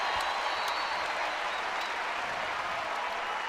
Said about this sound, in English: Crowd cheering here as Callie Schwarzenbach comes in.